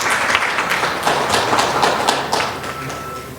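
An audience at a women's health panel discussion claps for a speaker, loud, close applause with sharp individual claps and a few thuds standing out, continuing steadily without talk.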